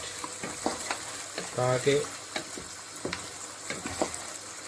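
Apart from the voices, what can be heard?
frying ginger garlic masala for nihari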